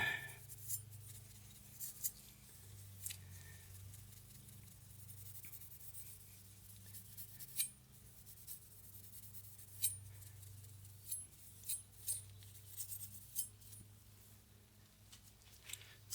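Steel wool scrubs a Windex-sprayed steel knife blade during hamon polishing, giving a steady scratchy rubbing with brief sharper scrapes over about sixteen seconds, fairly quiet and close, with no voices.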